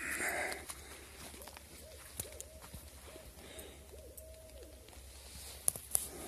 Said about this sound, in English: That's got to be an owl.